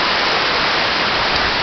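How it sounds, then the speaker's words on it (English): A waterfall in Tahquitz Canyon pours in a steady, dense broadband rush, loud and close, with no break across the short stretch. "there's the waterfall"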